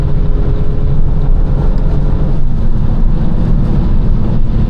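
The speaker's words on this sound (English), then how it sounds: "the only things you can kind of hear is the wind noise" Wind rushes past the cabin of a BMW 325i E93 convertible with an N53 engine and the rear exhaust box removed, heard as a loud, steady roar over low road and engine drone while driving at speed.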